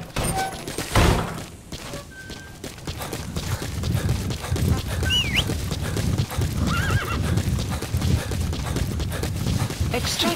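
A horse in Metal Gear Solid V clip-clops steadily across open ground at close range, with a whinny partway through. Game voices and thuds sit over the hoofbeats.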